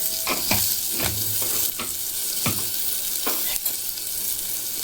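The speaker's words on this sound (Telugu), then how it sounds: "వెల్లుల్లి వేగే వరకు 2 నిమిషాలు ఇలా కలుపుకుంటూ ఉండాలి." Green chillies and garlic frying in oil, a constant close sizzle with several spatula scrapes and taps as they are stirred, no speech.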